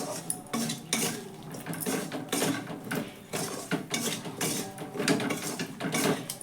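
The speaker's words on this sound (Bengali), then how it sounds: "বন্ধ করে দেওয়ার পর আমি কিন্তু এখানে নাড়াচাড়া বন্ধ করব না, আমি কিন্তু এইভাবে কিছুক্ষণ নাড়াচাড়া করে যাব।" Gaja sweets being stirred through sugar syrup in a pan off the heat, a busy stretch of repeated scraping and clattering of spoon against metal, close and continuous with no voices.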